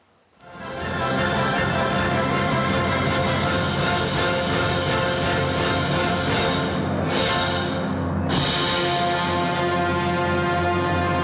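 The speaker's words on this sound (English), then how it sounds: "The symphony is what you're going to hear." A full orchestra swells in after a brief quiet start, sustaining a rich, loud chord with a short break near the end, no voices.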